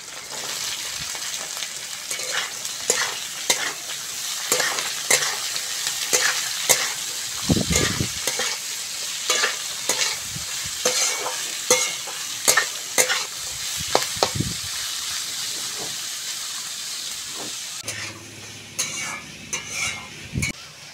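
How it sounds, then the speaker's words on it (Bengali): Chopped onions fry in a pan for rava upma, sizzling steadily while a utensil scrapes and taps the pan in irregular strokes close by. Near the end the frying gives way to a different, more muffled clatter. "বন্ধুরা পেঁয়াজটা ভালো করে ভেজে নিয়েছি"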